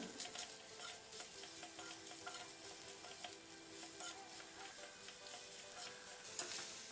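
Grated coconut is stirred as it fries in a pan, a soft, even sizzle running throughout, with faint scraping strokes and occasional light utensil clicks.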